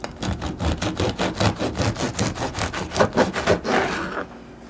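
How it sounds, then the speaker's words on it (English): A knife saws back and forth through a loaf of bread, cutting half-inch slices for bruschetta. Rhythmic, close rasping strokes repeat steadily about five times a second and then stop, with no talk. "So you want to cut it about a ½ inch so that it gets nice and crispy."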